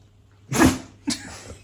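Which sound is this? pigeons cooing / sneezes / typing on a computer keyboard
sneezes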